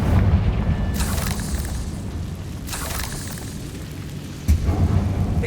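Confringo explosive spells in Hogwarts Legacy go off in several heavy booms, with sharp blasts near the one, three and four-and-a-half second marks over a rumbling, continuous low roar.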